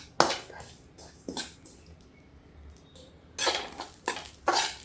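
Poppy seeds dry roasting in a pan, heard as intermittent scraping and rattling of a spatula against the metal, with sharp clinks separated by quieter gaps and no voices.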